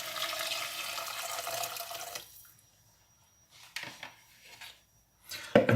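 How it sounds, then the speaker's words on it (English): Vegetable stock poured into a pot for carrot and lentil soup gives a steady, close liquid rush for about two seconds, then quiet with a few faint clatters and a sharp knock at the end. "So now I'm going to add in 1 litre of vegetable stock"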